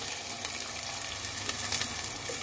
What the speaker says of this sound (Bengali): আর এখন আমি দিয়ে দেব ঝোলের জন্য জল।